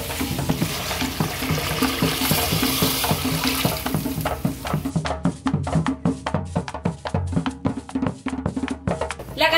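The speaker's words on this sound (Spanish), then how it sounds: "ahora le agregamos el agua a esta rica preparación" Water is poured into a rice and pork preparation in a cooking pot, a steady splashing pour that then turns into rhythmic stirring and bubbling, close and fairly loud.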